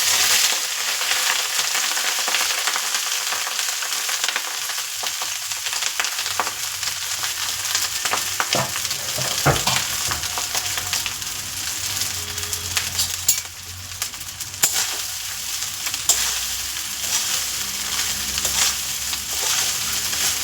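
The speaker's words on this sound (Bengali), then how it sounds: "রাইসটা খুব ভালো করে ভেজে নিই" Rice fries in plenty of oil in a wok for mixed fried rice, a steady hiss of sizzling with scraping stirs and occasional clacks of the spatula against the pan, no talking.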